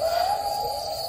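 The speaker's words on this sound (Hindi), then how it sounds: "आप झींगुरों की आवाज़ सुन सकते हैं" Crickets chirp in a steady, continuous drone, with no other sounds.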